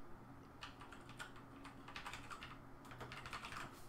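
Typing on a computer keyboard, quiet close keystrokes tapping in irregular clusters with short pauses, no voices.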